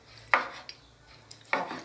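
A knife chops cooked beef tongue on a board in a kitchen: two sharp, distinct strikes about a second apart with faint small knocks between, quiet and close.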